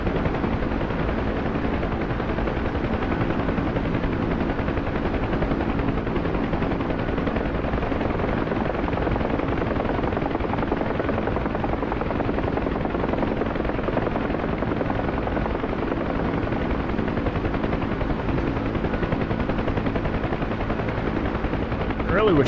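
Huey helicopter in the flight simulator DCS, its rotor and turbine giving a loud, steady, continuous thumping drone that fills the whole stretch without letup.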